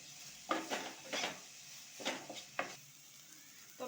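Onion frying in a pan with a soft, low sizzle, punctuated by several clear scraping and clinking strokes of a utensil stirring against the pan.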